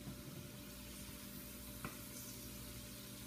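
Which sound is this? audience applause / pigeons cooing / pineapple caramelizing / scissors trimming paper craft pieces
pineapple caramelizing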